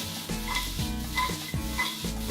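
Vegetables for quinoa fried rice stir-fry and sizzle in a pan, with a steady hiss broken by a few rhythmic tossing bursts as the pan is flipped, close and fairly loud.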